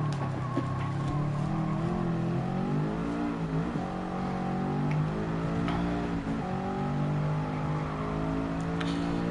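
Race car engines drone and rev in the racing video game Gran Turismo 7, a layered engine tone rising and falling through gear changes, with brief sharp clicks and no talking.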